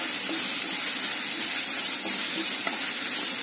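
Onions frying in a pan with kasuri methi being added, a steady dense sizzle holding evenly throughout with faint stirring scrapes, close and alone with no talk.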